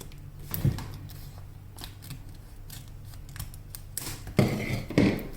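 Scissors snipping off-brand transfer tape for a water bottle decal, a few crisp close cuts spread across a few seconds with soft handling rustle in between.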